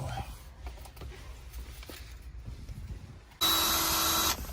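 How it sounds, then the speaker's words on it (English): A power drill bores a hole in a Porsche Boxster S interior, a short loud whirring burst of about a second near the end, following quieter handling sounds and faint background noise. "Drilling a hole in a Porsche."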